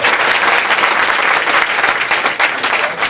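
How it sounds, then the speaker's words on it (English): Loud, steady applause from a crowd, continuous clapping throughout. "let's give him a round of applause"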